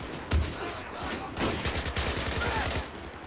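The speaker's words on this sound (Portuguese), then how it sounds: "Quem tá me atirando aqui?" Rapid automatic gunfire in the shooter game Battlefield 4 crackles in dense bursts, with a heavy shot near the start and sustained rattling volleys to the end, loud and close.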